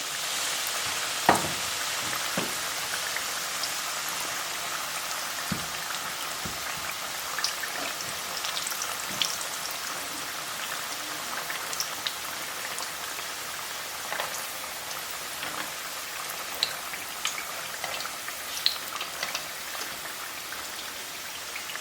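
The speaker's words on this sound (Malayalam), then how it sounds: "ആദ്യം എണ്ണ മൂത്ത് കഴിയുമ്പോൾ ചെറുതീയിൽ വേവിച്ചെടുക്കണം" Plantain fritters sizzle in hot oil over a low flame, a steady dense crackle with scattered sharper pops throughout, close and continuous with no talking.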